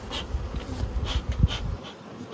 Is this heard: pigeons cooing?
no